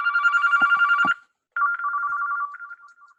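A phone rings during a live webinar, sounding a clear electronic trill in two bursts separated by a short silent gap, fairly loud and with no talking over it.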